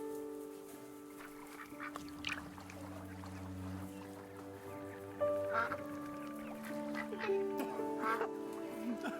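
Ducks quacking in the video game That Dragon, Cancer, a cluster of bird calls over steady game music, moderately loud and close, with a few sharper quacks standing out toward the middle and end.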